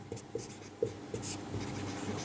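Chalk or marker tapping and scratching on a board during a Class 8 math lesson on profit, a handful of faint, quiet strokes spaced unevenly over a couple of seconds.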